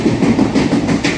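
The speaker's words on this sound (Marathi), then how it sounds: "ही आमची ट्रेन आली बाहेर टनलच्या" Sawantwadi passenger train emerging from a tunnel on the Konkan line near Ratnagiri, a steady loud rumble with rhythmic clickety-clack of wagons over rail joints, close by and continuous.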